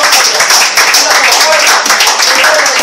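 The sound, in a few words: congregation giving loud applause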